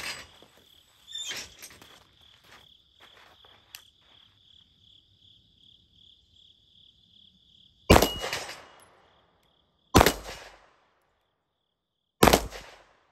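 Handgun shots at an outdoor range from a Glock 19 or Wilson Combat EDC X-9: three loud, sharp separate reports with echoing tails, following a quieter stretch of clicks and an insect chirping.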